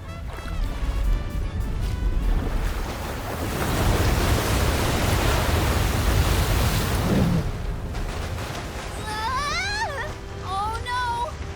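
Massive wall of ocean waves crashing in the video game Visions of Mana, a loud, sustained roaring wash of surf that swells and surges for several seconds, then subsides beneath brighter game sound effects and tonal chimes.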